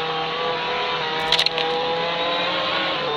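Car engine in the Roblox Jailbreak video game, a steady droning hum with a brief burst of higher-pitched mechanical noise partway through, continuous and fairly close.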